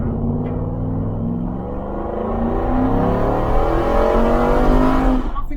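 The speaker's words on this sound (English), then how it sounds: "I don't think I mentioned this one has the rowdy exhaust, as evident by my obnoxious display of acceleration." Ford Bronco with a rowdy aftermarket exhaust accelerating hard, engine note climbing through rising harmonics in a loud, close growl that swells toward the end, with no talking.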